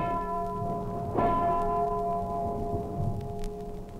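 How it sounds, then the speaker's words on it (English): A steamship engine room telegraph rings a single sharp bell strike over a steady, sustained tonal hum of the engine room, the ringing decaying slowly into the background drone. "2 bells, half speed astern."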